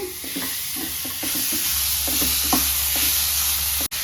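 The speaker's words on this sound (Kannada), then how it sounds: "ಇಷ್ಟು ಫ್ರೈ ಆದಮೇಲೆ ಇದಕ್ಕೆ ಮಾವಿನಕಾಯಿ ತುರಿ ಹಾಕಬೇಕು" Grated raw mango tossed into a frying seasoning for mango rice: a loud, constant sizzle with repeated scraping taps of a spoon stirring the pan, plus a low hum from the stove.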